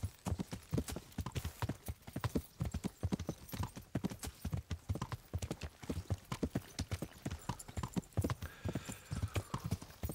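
Horse hooves clip-clop steadily at a riding pace in the medieval video game Kingdom Come Deliverance, a close, rhythmic trot with a faint whinny, heard alone.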